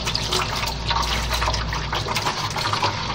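Running tap water rinses out a pet water fountain, a continuous close gushing and splashing flow with no pauses and no voices.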